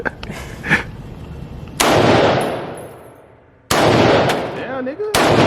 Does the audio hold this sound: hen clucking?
no